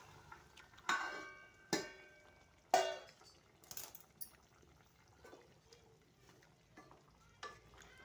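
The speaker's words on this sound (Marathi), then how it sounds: "आता आपण थोडंसं पाणी घालून घेऊया" Water poured into a pot of village-style chicken curry, heard as a few quick splashes and stirring scrapes against low sizzling, fairly faint and close, with no voices.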